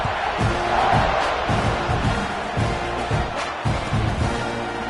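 Football stadium crowd before kickoff at a Texas A&M game, a loud, sustained roar of many voices with rising cheers and shouts, continuous throughout with no clear commentary over it.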